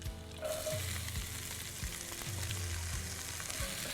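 One diced onion fries in a pan, a soft steady sizzle close by with faint intermittent low hum and light scraping.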